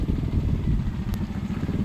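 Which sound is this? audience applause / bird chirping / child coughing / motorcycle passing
motorcycle passing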